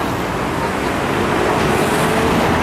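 Loud, steady roar of city street traffic where double-decker buses run, a continuous wash of engine and tyre noise close by with no distinct individual passes.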